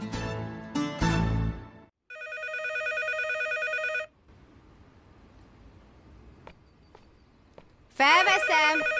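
An old-style telephone bell rings in two loud bursts of repeated trills, fairly close and clear, followed by quieter room sounds and a brief electronic chirp at the end.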